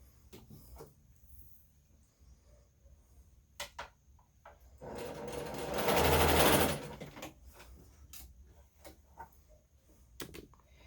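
Sewing machine stitching table runner fabric pieces one after another without breaking thread, a steady motor whir building to a loud burst in the middle, with light handling clicks before and after.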